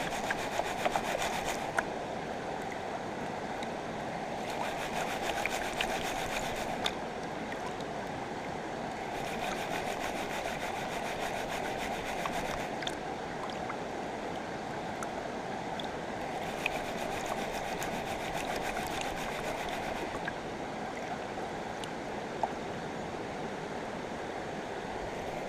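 Gravel being swirled and washed in a gold pan with water while prospecting, giving a steady wet rubbing and sloshing with repeated scraping surges, close and continuous with no talk.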